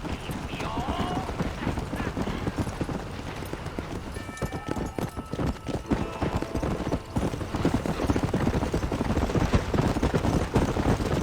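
Horse hooves clip-clop in a steady, rapid galloping rhythm while riding in the Red Dead Redemption video game, loud and continuous under low voices and game ambience.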